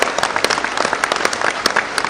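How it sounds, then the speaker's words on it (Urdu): Crowd at a political rally for PTI workers breaks into steady applause, dense clapping throughout with sharper bursts, fairly close and loud. "ان کے لیے تالیاں بجائیں جو انہوں نے پی ٹی آئی ورکرز کے لیے کیا ہے"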